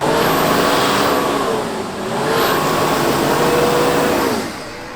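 A Nissan Patrol engine revs hard while driving off-road, held at full throttle in a loud, continuous roar with slight dips and surges, with no voices.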